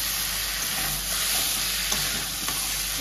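Spices fry and are stirred in a pan, a steady loud sizzle with occasional soft scrapes, close up, with no voices.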